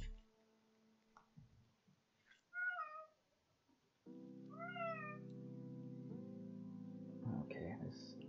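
A pet cat gives a few loud meows close by, one short call followed by a longer drawn-out one, then a sustained droning tone with faint clicks, no talking.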